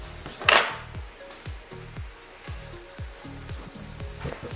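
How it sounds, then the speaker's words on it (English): A knife scraping onion skins across a cutting board, a series of short, evenly spaced scrapes and taps near at hand, with one louder clatter early on and no talking. "we're going to clean all of that off our cutting board"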